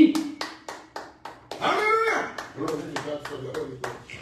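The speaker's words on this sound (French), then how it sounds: "Applaudissez pour la gloire de Jésus." Church congregation claps in a steady, rhythmic beat during a worship gathering, while a voice speaks and calls out over the clapping.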